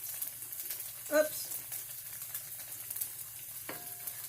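Tofu and vegetables fry in a pan with a steady, soft sizzle throughout, broken by a brief louder scrape of stirring near the start and a faint clink later.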